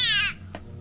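A single short, high meow from a cat sounds in an old 1946 radio drama, fading quickly into a quiet room with a brief faint noise afterward.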